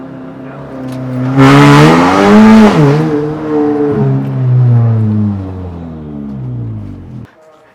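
A Volkswagen 1.8T car engine with Golf R injectors and high-pressure fuel pump revs hard on launch control and climbs in pitch, then surges away loudly with rising and falling engine tones before cutting off abruptly.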